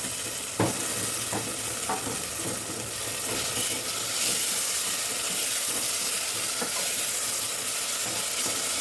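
Onion, tomato and ginger-garlic paste sauté in a pan for chicken biryani, giving a steady close sizzle and frying hiss with occasional clinks and scrapes of stirring, heard alone throughout.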